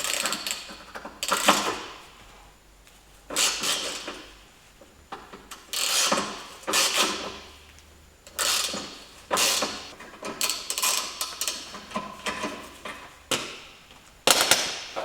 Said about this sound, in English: So I'm going to remove these fasteners,